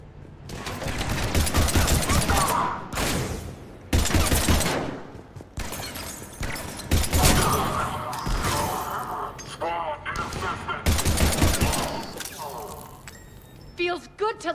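Sustained bursts of automatic gunfire and sharp impacts from a Mass Effect 3 firefight, loud and continuous across the clip, with voices speaking over the shooting.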